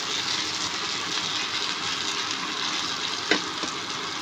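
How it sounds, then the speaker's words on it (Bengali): Onion frying with spices in a pan gives a steady broadband sizzle throughout, with one brief sharper crackle near the end; no voices. "পেঁয়াজটা একটু ভাজা হোক।"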